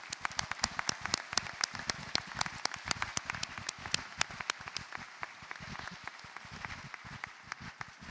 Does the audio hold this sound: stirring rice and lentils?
no